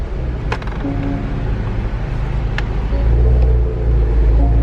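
Engine of a 2017 Porsche Macan Turbo starting up, a low steady rumble that swells louder near the end, with a couple of sharp clicks early on and no talking.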